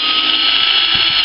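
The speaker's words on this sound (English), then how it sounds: "if you're using a drill like this, you want to be using the torque limiter" A cordless power drill whines steadily and loudly as it spins out torque screws from the air filter housing of a 2011 Ford FG XR6, the pitch holding constant before it stops.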